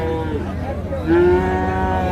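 Cross-breed calves at a busy cattle market, one drawn-out moo rising clearly over a steady crowd murmur and background chatter.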